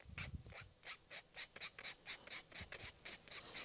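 Hand filing of a wire jewelry hook with a file: a steady series of about a dozen rhythmic raspy strokes, close and fairly quiet, with no talking.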